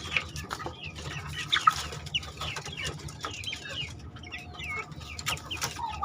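Chickens clucking on a poultry farm, several birds calling in overlapping, irregular bursts with occasional louder squawks over a steady barn hum, no talk.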